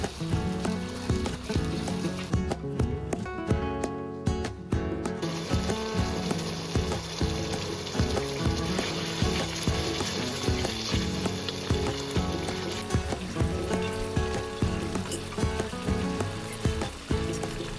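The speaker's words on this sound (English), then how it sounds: "Fry this mixture for at least 2 minutes on medium-high heat." A spice mixture for chicken karahi frying on medium-high heat, giving a loud, continuous close sizzle and crackle with occasional stirring, steady throughout with no voices.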